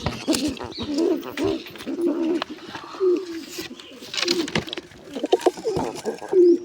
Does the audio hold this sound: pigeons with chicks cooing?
yes